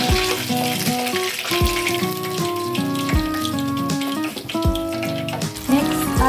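Chicken pieces deep-frying in hot oil, with a steady loud sizzle and bubbling that runs the whole time and carries faint tonal clatter over it.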